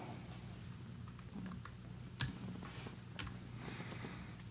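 Computer keyboard typing during 3ds Max modelling work: a quiet run of light key clicks with a couple of sharper taps, heard alone close to the microphone.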